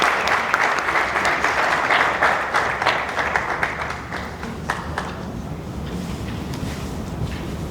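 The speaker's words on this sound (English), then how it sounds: "Everyone applause." An audience at a Ghanaian brigade orientation ceremony applauding as a medical director comes on stage, dense sustained clapping that gradually thins and fades.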